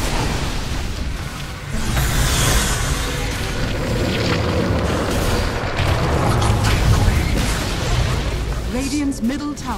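Dota 2 match audio with a tower under siege and collapsing: dense, continuous game combat noise with repeated booms and impacts at steady loudness, a brief rising tonal effect near the end, and some voice-like game sounds mixed in.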